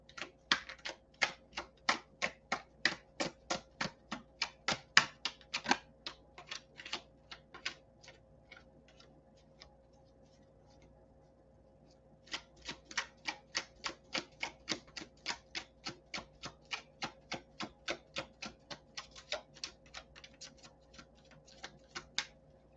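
Rapid, crisp flicking clicks as a thick tarot deck is shuffled in bursts, with a brief pause midway before another long riffle.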